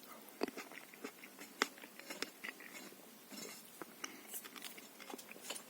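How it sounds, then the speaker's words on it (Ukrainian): Grape berry being bitten and chewed up close, soft wet crunches and smacking at irregular intervals, quiet with a slight background hiss. "я скуштую цю ягодку, попробую"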